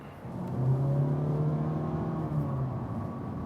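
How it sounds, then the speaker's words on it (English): A 2019 Honda Insight hybrid's engine revs hard under acceleration, a steady loud drone rising slightly in pitch, close and continuous throughout. "during hard accelerations, the engine is relatively noisy"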